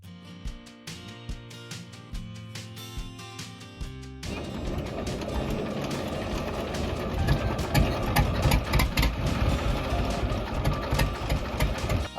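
A passenger boat's engine idles at the jetty before leaving Pipavav port for Shiyal Bet island in Gujarat, a dense, rumbling drone that takes over after a few seconds of a steady tone and grows louder.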